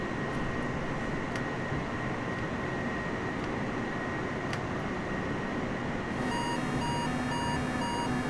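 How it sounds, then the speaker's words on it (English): A Boeing 747-100 cockpit alarm in Microsoft Flight Simulator starts late as a repeating electronic tone, heard over a steady engine and wind rumble. "There's that alarm I said we'll get."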